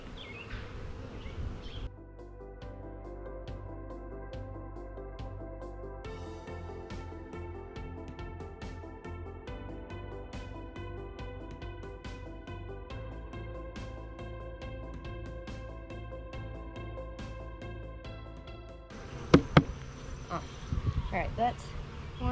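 Honeybees hum in an opened hive during an inspection, a sustained buzzing beneath steady tonal sound, with louder clattering handling noises and a short burst near the end.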